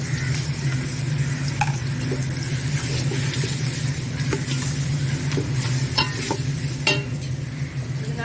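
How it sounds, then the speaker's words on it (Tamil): Ginger garlic paste sizzles in oil and ghee for a village-style duck biryani, a busy frying hiss broken by stirring scrapes, with a steady low hum underneath. "இப்போ இஞ்சி பூண்டு பேஸ்ட் போட போகிறோம்."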